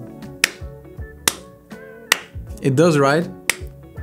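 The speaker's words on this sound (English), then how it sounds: "if I clap, because this is enabled, the clapping should be removed" Sharp hand claps sound close to the microphone at a steady, spaced rhythm, with a person talking briefly among them.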